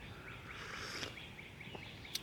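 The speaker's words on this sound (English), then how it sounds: "listen to the birds" Birds chirp and sing outdoors on a quiet morning, with soft repeated calls and a few sharper short chirps over a low background hush.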